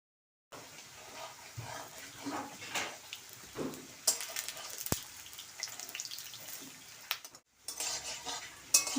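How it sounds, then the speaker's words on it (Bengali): Small split-pea lentil fritters (bora) deep frying in hot oil, a steady close sizzle broken by stirring and scraping of a utensil against the pan, with a few sharper clinks. "এখন আমি ছোট ছোট করে বড়া ভেজে নেব।"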